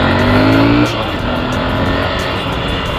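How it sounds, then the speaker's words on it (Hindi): Motorcycle engine misfiring while riding, a loud, steady engine drone with a revving tone in the first second that then settles into a rougher, uneven running note with no talk. "भाई बाइक मिसिंग मार रहा है आई डोंट नो क्या रीजन है"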